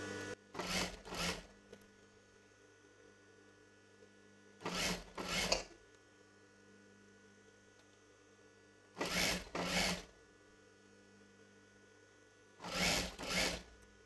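A sewing machine stitches the front neck of a chudidar in four short runs, each a quick double burst of rapid mechanical whirring, separated by quiet gaps of a few seconds.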